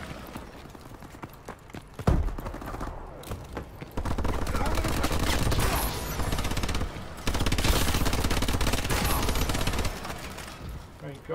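Turret gunfire in a video game match, sustained rapid bursts that surge loudly in two long stretches, with dense clattering shots throughout.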